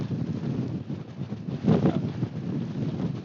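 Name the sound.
wind on a mountain summit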